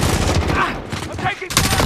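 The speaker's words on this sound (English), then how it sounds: "I'm taking fire" Video game gunfire rattles in dense bursts close up, loud sustained shots with a short break before a fresh volley, and a voice talks briefly over it.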